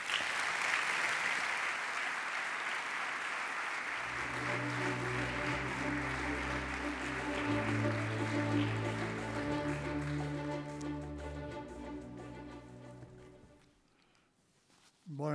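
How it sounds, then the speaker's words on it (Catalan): Audience applause fills the hall at the Girona Literary Awards 2020 ceremony, a dense sustained clapping that carries for several seconds, then thins out and stops, with a brief tonal sound entering in the second half. "Un aplaudiment"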